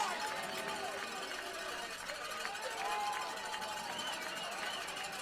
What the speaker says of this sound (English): the crowd is getting loud on both sides